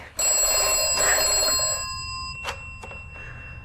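A telephone rings in a quiet room, one sustained electronic ring followed by a couple of short fading chirps, loud and close with no voices.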